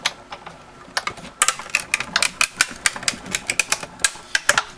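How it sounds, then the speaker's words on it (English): Paper is cranked through a Big Shot die-cutting machine, giving a close run of sharp, irregular mechanical clicks and ratcheting ticks that speed up and continue without any voices. "I'm going to take this to my Big Shot, and I'm going to crank it through."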